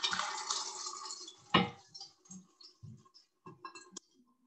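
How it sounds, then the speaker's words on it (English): Cheese curds and hot whey poured from a pan through a cloth-lined colander during British cheesemaking, a loud rushing pour that gives way to scattered drips, splashes and clatters close by. "pour it through the colander."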